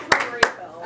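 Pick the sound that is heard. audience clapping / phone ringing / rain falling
audience clapping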